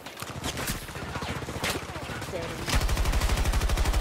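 Rapid automatic light machine gun fire in a multiplayer shooter, irregular bursts at first, then a loud sustained stream of evenly spaced shots.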